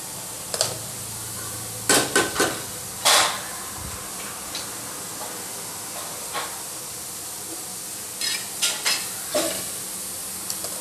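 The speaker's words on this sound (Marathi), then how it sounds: "इथे मी आमटीचा कांदा भाजत टाकला आहे" Onion for amti fries over a low gas flame, a soft steady sizzle broken by sharp scraping and stirring clatters of a utensil against the pan, close by and with no voices.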